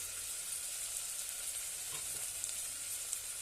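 Veg pulao with salt, red chili powder and coriander being sautéed in a pan, a steady soft sizzle running evenly throughout with faint stirring scrapes, close and alone.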